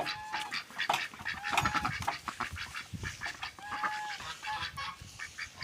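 Domestic ducks call in a farmyard, repeated honking quacks from several birds in an irregular, overlapping chorus, near and moderately loud, with no voices.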